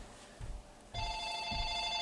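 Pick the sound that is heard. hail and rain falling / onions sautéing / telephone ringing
telephone ringing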